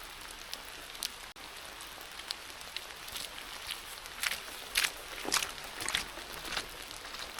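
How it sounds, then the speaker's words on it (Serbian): Rain falls through a forest as a steady soft patter, with sharper nearby drops and light rustles growing more frequent toward the end, and no one speaking. "Kiša ne prestaje, naprotiv, zapravo mnogo i jača nego što je bila pre recimo pola sata"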